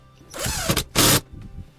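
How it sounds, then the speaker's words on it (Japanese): A power driver whirs in two short bursts, the second louder and steadier, as a wood screw is driven into the edge of a board close by. "ビスに固定するときでこういう板の端を打ちたいとき、このまま打つと"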